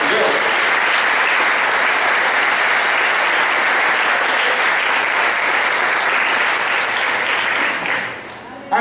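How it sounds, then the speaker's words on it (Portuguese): A church congregation gives sustained, loud applause, dense and even for several seconds before it tapers off at the end. "Vamos dar uma salva de palmas para o meu Deus?"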